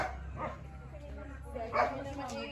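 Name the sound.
dog barking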